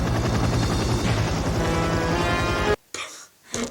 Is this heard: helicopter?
yes